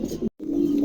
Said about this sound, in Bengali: চমৎকার একজোড়া কবুতর